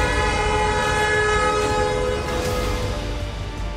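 Car horns blare under Sitong Bridge during a protest in China, a loud, sustained, layered honking with a steady chord that persists throughout over dense traffic rumble.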